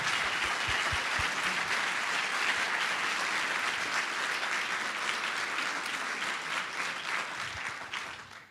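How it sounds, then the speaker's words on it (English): An audience applauds forum panelists and their moderator at the close of a discussion, a steady, dense wash of many hands clapping that holds for several seconds before tapering off at the end. "Can you join me in applause for this excellent group?"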